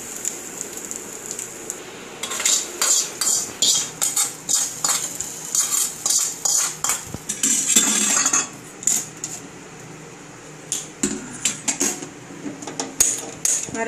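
A spoon stirring grated coconut in a metal pan while cooking mango pachadi, a run of quick scraping and clinking strokes in uneven bursts, close and fairly clear with no talk.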